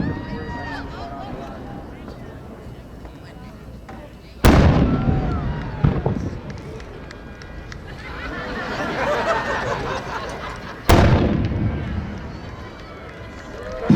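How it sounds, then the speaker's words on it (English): A 5-inch fireworks shell at a winter pyrotechnics gathering booms with two sharp, loud bursts several seconds apart, each followed by crackling rumble, while people talk throughout. "it's a 5-inch shell"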